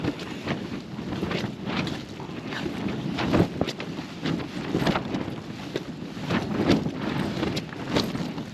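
Wind blowing across the open hillside of Pen-y-ghent, a steady roar with rising gusts that buffet close to the microphone throughout.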